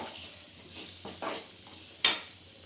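Mashed potatoes with salt being stirred in a pan, with a few scraping, clinking spoon strokes against the metal, the loudest near the end, over a faint background hiss.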